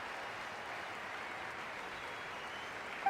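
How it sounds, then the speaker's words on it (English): Crowd applause from a celebratory send-off in the video game Genshin Impact, a steady, even wash of clapping that holds at moderate loudness throughout with no voices on top. "Let us send her off with a round of applause"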